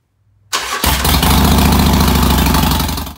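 After a Hammer Performance 1250 kit install, a motorcycle engine cranks briefly in near silence, then catches and settles into a loud, close, steady idle that lasts to the end.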